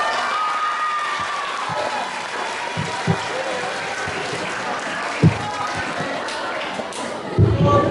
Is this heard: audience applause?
yes